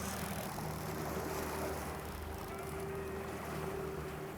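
A faint, steady fishing boat engine hums in gear on water off Florida, with low wind and splashing in the background and no voices.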